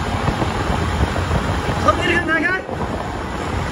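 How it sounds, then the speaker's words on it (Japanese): Strong wind buffets the microphone while a moped rides a mountain pass road in Japan during a solo camping trip, with a steady loud roar throughout and a brief dip near the end; some faint talk seems mixed in. "風が強くなってきた。"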